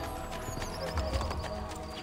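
Hooves of an armored horse clip-clop in Assassin's Creed: Brotherhood, a few quick, fairly soft hoofbeats over a steady background of game ambience.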